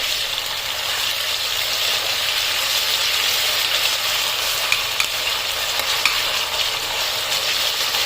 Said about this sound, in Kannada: ಶುಂಠಿ ಬೆಳ್ಳುಳ್ಳಿ ಪೇಸ್ಟ್ ಹಾಕಿ ಸ್ವಲ್ಪ ಚೆನ್ನಾಗಿ ಫ್ರೈ ಮಾಡಿ